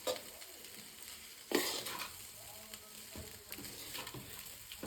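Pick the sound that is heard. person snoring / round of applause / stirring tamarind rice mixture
stirring tamarind rice mixture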